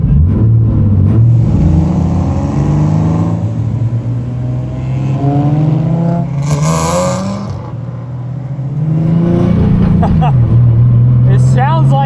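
A loud, close engine of a home-built go-kart sounding like a 350Z revs and drones continuously at about 3,500 RPM, pitch rising and falling, with a voice talking over the roar.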